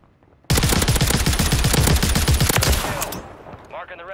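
Rapid automatic gunfire bursts in Call of Duty on Rebirth Island, a dense loud rattle of shots lasting a couple of seconds before tailing off into fainter game noise.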